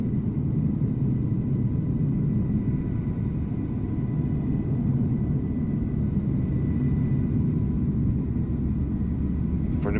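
Finnair Airbus A350 taxiing at Amsterdam Schiphol in Microsoft Flight Simulator, a steady low jet engine rumble that holds constant throughout with no talk.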